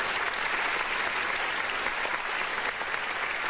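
A round of applause from an audience, dense and even clapping that stays loud and continuous throughout with no voices on top.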